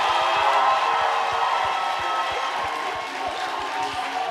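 Studio audience ovation on a Friday-night French TV show, a sustained roar of cheering and clapping from a warm crowd, steady and loud throughout with rhythmic low thumps beneath.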